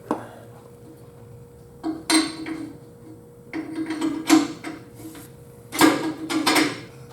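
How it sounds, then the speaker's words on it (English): A metal plate is set on top of a new lowering leaf spring on a 1951 Ford F-1 truck, producing a few close metallic clanks and clunks with scraping and handling noise between them. "Oh, gotta put this plate on top."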